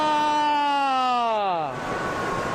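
A devotee wails and cries beside the Ganges river, a single long falling voiced cry with rich harmonics that slides down and gives way to noisy rushing water, loud and close.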